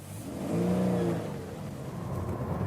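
A 2017 Toyota GT86 engine revs up as it accelerates away, a loud close rising note that swells and then settles into a steady drone.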